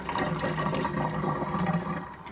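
Water is drained from a bowl of soaking strawberries: a continuous close pouring gush and splash, steady and loud, with no talk.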